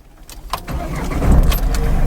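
A Mahindra Bolero Neo N10 diesel SUV starts up close by: a brief crank and key rattle, then the engine catches and settles into a loud, steady idle.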